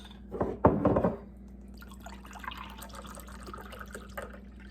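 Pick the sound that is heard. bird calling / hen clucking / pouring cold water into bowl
pouring cold water into bowl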